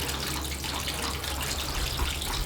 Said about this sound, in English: So open the valve, release the water.